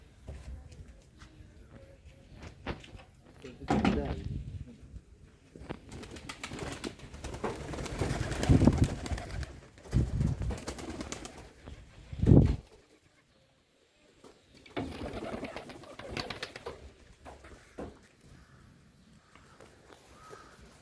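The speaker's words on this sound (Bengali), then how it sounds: "এখন দেখো কবুতর ছাড়বো" Giribaz pigeons being released in Bangladesh: soft cooing and bird calls come in scattered bursts, with some crow caws and fluttering among them and a short quiet gap near the end.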